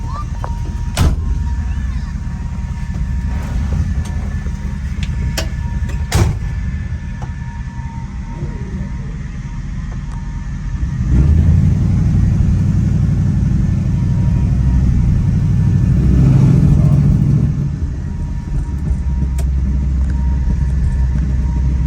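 A 1962 Chevrolet Impala SS with an LS engine swap and 4-speed automatic pulls away, its steady low engine rumble swelling louder midway as it accelerates, with a few sharp clicks early on.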